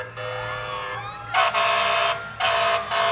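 A Harper Volunteer Fire Department fire truck in a July 4th parade in Fredericksburg, Texas, sounds a loud, rising mechanical siren, then two long blasts of its air horn, close and dominant.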